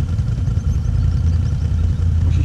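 A quad bike engine rumbles at a gravel pit, steady and loud with low-pitched idling and slight throttle wavering throughout.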